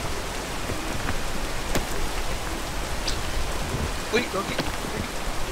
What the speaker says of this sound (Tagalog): Ay, antay nyo muna ulan.